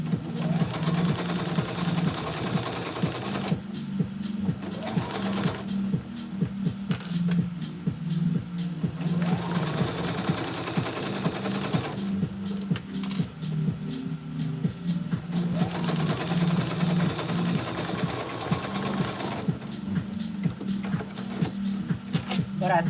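A sewing machine runs in steady bursts while stitching a McCall's 8193 cosplay pattern, its motor hum and needle chatter close and continuous, with short pauses between runs and a voice talking over it.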